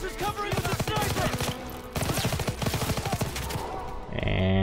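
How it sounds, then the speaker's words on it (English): Sniper rifle and other gunfire in the Call of Duty WW2 artillery-trap mission, a dense burst of loud, rapid shots under battle noise, with a short pause near two seconds and a brief tonal sound at the end. "Daniels is covering with a sniper!"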